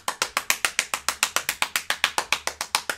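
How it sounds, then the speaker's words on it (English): Rapid steady hand clapping, around seven claps per second, crisp and close with no voices, as fast as possible in a music class clapping game. "Epic Says, clap as fast as you can."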